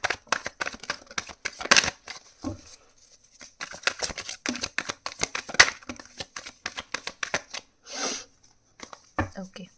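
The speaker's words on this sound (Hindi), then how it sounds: "let's start the reading and shuffle the cards" Tarot cards being shuffled by hand, close and crisp: quick riffling and flicking bursts with short pauses between them, while someone speaks throughout.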